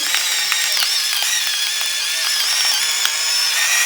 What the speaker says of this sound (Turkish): Biraz da tuz çekiyorum.